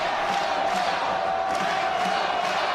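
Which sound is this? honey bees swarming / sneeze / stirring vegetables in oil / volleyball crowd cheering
volleyball crowd cheering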